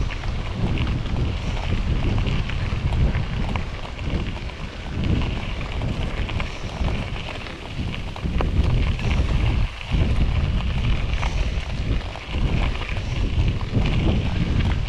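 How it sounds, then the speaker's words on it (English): Steady, loud wind rushing over a rider on the road between Ellensburg and Greenwater, a continuous broadband roar with buffeting gusts and no speech. "Ooh, there's the wind."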